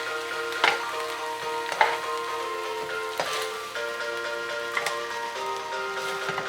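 Chicken thighs browning in a non-stick pan give a steady close sizzle with scattered sharper pops and the odd clink of stirring, no voices.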